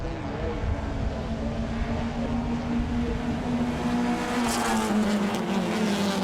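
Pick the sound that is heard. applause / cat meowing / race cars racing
race cars racing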